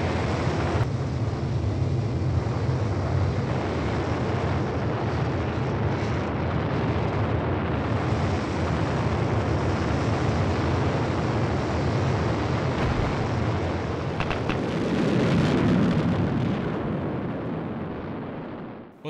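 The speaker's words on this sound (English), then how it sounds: "It then fires up the landing engines to slow it down even further." The descent stage engines of the Mars rover Curiosity fire for landing, producing a continuous loud roaring rumble that holds steady for the whole stretch and swells slightly before fading at the end.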